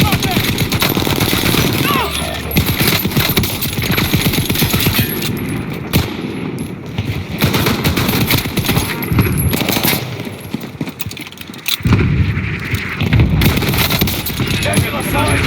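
Assault rifle and LMG gunfire in Call of Duty Modern Warfare, rapid dense automatic bursts rattling almost continuously at close range, with brief pauses and loud game effects throughout.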